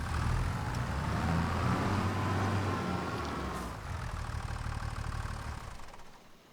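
A tractor engine in Farming Simulator 25 rumbles steadily at close range while being parked in a farm shed, its low drone easing slightly in pitch and fading toward the end.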